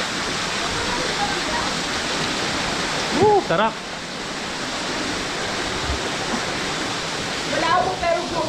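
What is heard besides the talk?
waterfall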